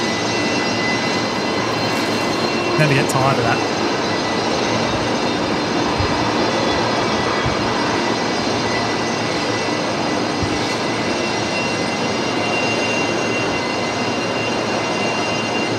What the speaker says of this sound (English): beautiful Rolls-Royce tails sound?